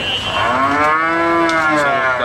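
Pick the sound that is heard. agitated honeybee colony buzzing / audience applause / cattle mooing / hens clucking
cattle mooing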